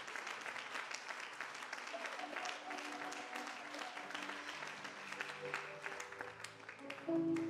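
A church congregation claps together in sustained, steady applause, moderately distant, with a voice speaking over it and faint musical tones rising near the end.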